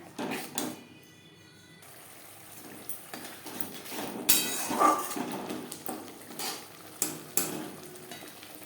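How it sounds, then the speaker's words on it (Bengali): Spice paste being stirred and fried in a pan for a Bengali tilapia and potato curry, with a little spice-rinsing water added. Intermittent scraping and stirring strokes with soft sizzling come in bursts, moderately close, with no talk. "ভাজা মশলা মশলার সাথে বেশ ভালো করে মিক্স করে দেবো মশলা কষাবার সুবিধার জন্য"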